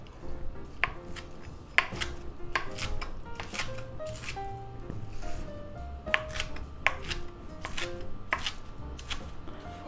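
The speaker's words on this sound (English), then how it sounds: "I think we're gonna chop up some of these spinach leaves" A knife chops fresh spinach leaves on a cutting board in a home kitchen, with a quick series of close, crisp taps that come in uneven bursts and short pauses.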